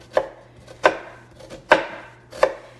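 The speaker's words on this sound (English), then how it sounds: "Alright, got a quarter of an onion chopped up." A knife chops through a quarter of an onion on a cutting board with four sharp, evenly spaced thuds about a second apart, close and clear with no talking.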